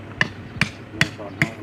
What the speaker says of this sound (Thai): ตอกไว้ก่อน